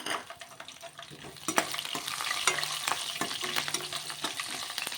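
Dry red chillies and green chillies fry in a pan with a close, crackling sizzle, stirred with regular metallic scrapes and taps that grow busier partway through.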